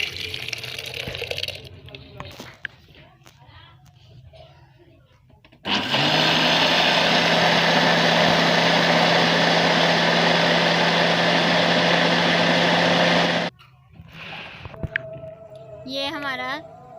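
Electric grinder whirring through cooked chana dal for a sustained loud stretch of about eight seconds, with a steady motor drone that starts and stops abruptly, and someone talking before and after.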